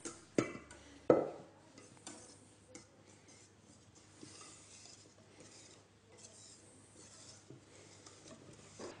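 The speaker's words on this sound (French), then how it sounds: "Et là, on va mélanger tout doucement" Génoise sponge batter is folded gently in a bowl, soft quiet scraping and swishing strokes after a couple of sharp clinks at the start, with no talk.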